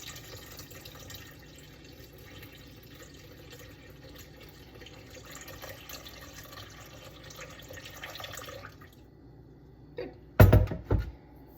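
Filtered water is poured from a pitcher in a kitchen while making sourdough, a steady soft trickle that stops, followed by a short louder clatter near the end.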